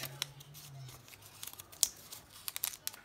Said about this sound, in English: Cut them up, cut them up, cut them up, cut them up.